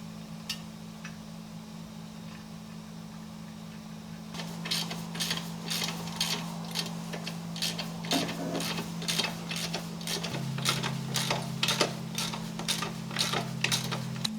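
Bolts holding new rubber on a yard scraper are tightened with a ratchet, a steady run of close mechanical clicks over a constant low hum that shifts pitch partway through.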